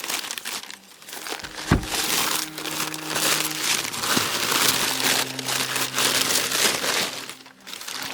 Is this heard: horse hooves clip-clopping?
no